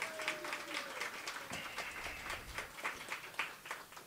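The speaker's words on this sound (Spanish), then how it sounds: "a quien también le damos un fuerte aplauso" Scattered applause from a small audience at an anniversary event for a mobile health clinic, fairly faint and uneven, with a brief tone and some background voices mixed in.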